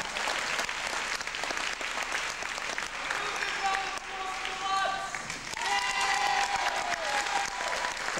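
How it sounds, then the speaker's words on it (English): Crowd at a Kaos Theory performance gives a big round of clapping, steady and continuous, with music tones and faint voices mixed in partway through. "It's a massive round of applause for him."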